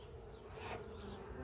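Honey bees buzz around an open hive beside a freshly added layer, a faint steady hum with a single bee droning slightly closer midway, no voices.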